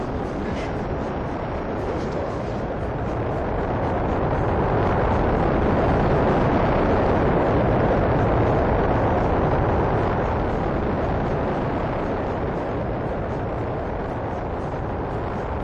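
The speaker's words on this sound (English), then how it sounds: "Once the Ares 5 has reached orbit, the Ares 1 will launch the crew into space." NASA Ares 1 rocket launch heard as a broad, continuous roar that swells gradually to a peak midway and then eases slightly, loud and steady throughout with no voices.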